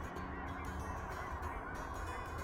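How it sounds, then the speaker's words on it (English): Canada geese honking in flight over open birding country, a dense continuous chorus of overlapping calls at moderate distance with steady wind or field noise underneath. "All the Canada geese are flying"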